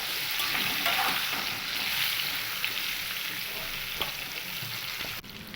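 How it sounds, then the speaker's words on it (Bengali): Pointed gourd pieces fry in oil with salt and turmeric, giving a steady, dense sizzle close by with occasional light stirring scrapes and no talking. "এবার এই লবণ হলুদ দিয়ে পটলটাকে কিন্তু লালচে কালার করে ভেজে নেব"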